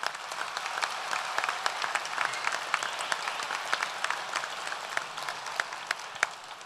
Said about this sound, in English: Another round of applause for Joe Sanders.